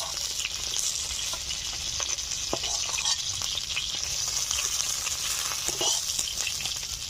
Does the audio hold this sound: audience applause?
no